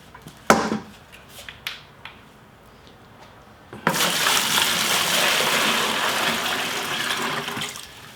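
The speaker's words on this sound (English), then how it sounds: "So first we're gonna add the water." Water poured into a bucket to mix tile thinset: a few light knocks and clatters, then a sudden steady, loud splashing pour that runs continuously to the end, close by.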